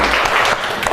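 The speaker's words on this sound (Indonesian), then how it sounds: "Kita tepuk tangan untuk kelompok 2." A crowd applauds, dense and loud clapping filling the whole moment.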